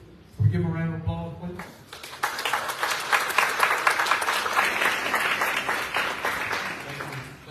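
A crowd at a community school merger meeting applauds parents and students, a brief spoken line giving way to sustained, even clapping from many people that holds to the end.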